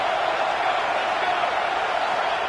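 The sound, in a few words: football crowd roaring on 4th down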